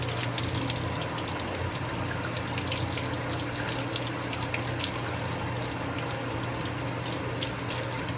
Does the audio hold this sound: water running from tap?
yes